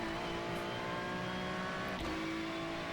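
A GT3 race car engine in the iRacing sim at Spa-Francorchamps drones steadily as power is fed in on a corner exit, a held rising tone with a brief gear change, moderately quiet and alone.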